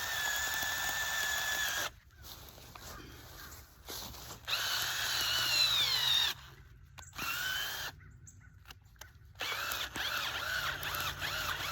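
A faulty power drill with a 2-inch bit whines at high pitch in several bursts, starting and stopping with short pauses, close by over a low background hum.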